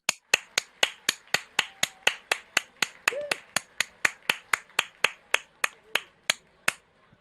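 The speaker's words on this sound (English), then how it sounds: "I would like to very much congratulate all those completing their PhD and give them a big round of applause." Steady, evenly spaced claps of about four per second are heard during PhD graduate recognition at a Birkbeck University of London graduation. The crisp, dry claps are close and sound like a single clapper rather than a large crowd, with no talking.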